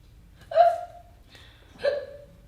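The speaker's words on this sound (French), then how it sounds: "Vous devez me pardonner car j'ai eu un hoquet." Two sharp hiccups, a voiced catch each time, sound close and clear about a second apart in a quiet room during a French comedy stage show.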